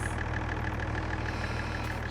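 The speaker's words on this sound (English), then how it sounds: "I cannot turn that tractor off." A tractor engine idles steadily in the video game Farming Simulator 22, with a smooth, even mechanical hum and a faint regular ticking pulse throughout.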